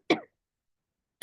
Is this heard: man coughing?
yes